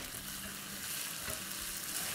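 Ginger, garlic and green chili paste frying in a pan for aloo palak, a quiet, even sizzle and hiss with faint stirring, no speech.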